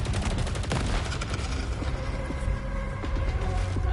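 Sustained rapid gunfire from Arjun's gun in the video game Saros, a dense continuous fusillade of sharp shots with mechanical clatter, loud and close throughout.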